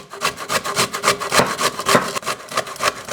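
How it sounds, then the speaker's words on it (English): Raw beetroot grated by hand on a grater, a steady run of rough scraping strokes, close and fairly loud, with no talk over it. "when you grate the beet, as you can see, I keep turning this way"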